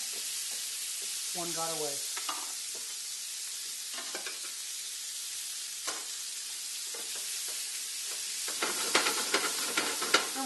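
Onions fry in rendered chicken fat in a skillet, a constant bright sizzle with scattered pops and crackles that thicken near the end, while a voice speaks briefly early on.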